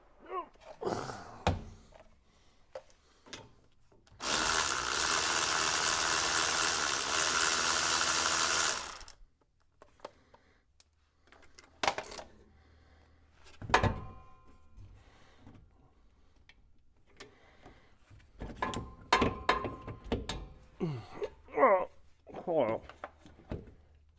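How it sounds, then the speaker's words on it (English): A ratchet works the bolts of a bent air shock, clicking in quick, close bursts, with a few seconds of loud broadband hiss early on and bits of breathing and movement around it. "Now, ratchet."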